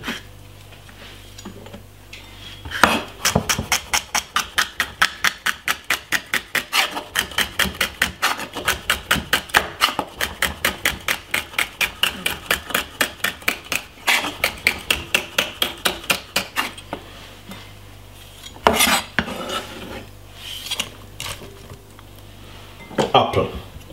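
Rapid, steady knife chops on a cutting board as celery is cut for a salad, a long run of sharp evenly spaced taps close up, with a few heavier knocks at the start and end.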